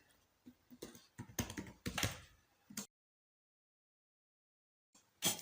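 Computer keyboard typing while working in AutoCAD, a quick run of close, crisp keystrokes that falls silent for about two seconds before a final short burst of keys.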